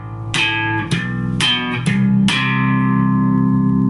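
An amplified bass guitar plucks a handful of low notes jumping between octaves, each note ringing out, the last one sustaining.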